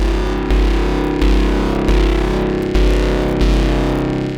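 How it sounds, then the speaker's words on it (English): Synth braam in Serum with drive distortion added: a loud, gritty, heavily distorted sustained tone with deep bass, restruck in repeated pulses about every 0.7 seconds, with no voices. "Let's add a little bit of drive."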